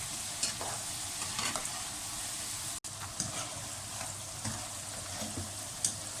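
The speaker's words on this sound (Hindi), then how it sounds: "हाई फ्लेम कर देंगे और उसके बाद हम इसको फ्राई करेंगे।" Potato fries sizzle in hot oil over a high flame, a continuous close crackling hiss with small pops, and no voices over it.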